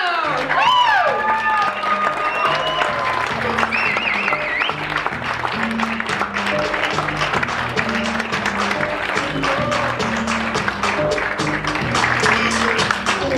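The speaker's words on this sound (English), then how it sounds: "give a big warm round of applause" Audience applause and cheering for a presenter at a March 2015 company presentation, a steady wash of clapping with scattered voices and cheers, loud and continuous throughout, with background music or tones underneath.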